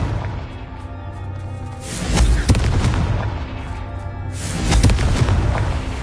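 Confringo blasting spell explosions in the game Hogwarts Legacy, two heavy booming blasts a few seconds apart, each with a whooshing burst and rumbling tail, loud and close with no talk.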